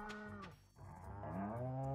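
Cattle lowing in the Starworld Farm video game, two drawn-out moos close by, the second longer and rising, with no talk over them.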